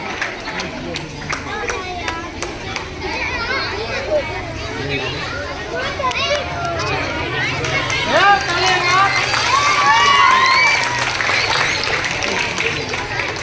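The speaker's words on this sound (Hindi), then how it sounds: "सभी बच्चे ताली बजा" Children clap and cheer at a school annual sports and prize distribution as students are called to the stage, a dense, steady burst of hand claps with crowd chatter and shouting that swells toward the end.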